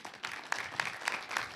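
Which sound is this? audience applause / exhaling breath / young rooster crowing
audience applause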